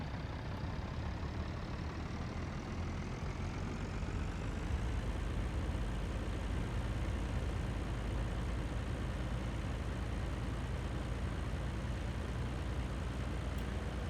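Steady engine drone of a tractor driving along in a farming video game, a continuous low rumble held at even loudness throughout with no voices.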